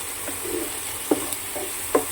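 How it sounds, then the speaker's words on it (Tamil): Chopped tomatoes frying in a pan, a low steady sizzle with a few sharp spoon scrapes and clinks spaced out, quiet and close, no speech. "இப்போ நம்ம கட் பண்ணி வச்ச தக்காளி போடலாம். தக்காளி போட்டாச்சு."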